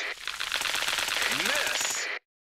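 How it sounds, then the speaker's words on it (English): A missile launch in the Tank Stars mobile game: a dense, rapid rattling burst of bright electronic noise with a rising whistle near its end, lasting about two seconds and cutting off abruptly into silence. "Missile released."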